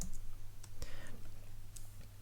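Soft computer mouse clicks sound in Adobe Illustrator CS3, a few sharp isolated taps spaced apart over quiet room hum, close and faint.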